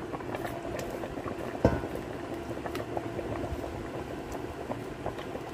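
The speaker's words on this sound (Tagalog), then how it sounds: "kumukulo na. Kumulo na siya ng mabuti." Pork sinigang broth boils in a pot, a quiet, steady bubbling with soft pops and one sharper knock, close and alone without speech.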